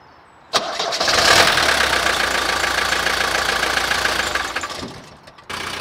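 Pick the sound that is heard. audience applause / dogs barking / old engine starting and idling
old engine starting and idling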